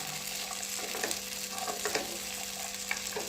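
Garlic frying in a pan for a homemade vegetable dish or chutney, with a steady, close sizzle and a few soft stirring scrapes, no talking.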